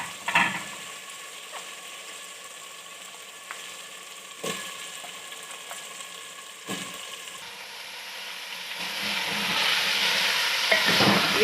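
Achari masala (pickle spice mix) sizzling steadily in a pan for achari aloo gobhi, with a few sharp spatula scrapes and knocks, and the frying hiss swelling louder toward the end.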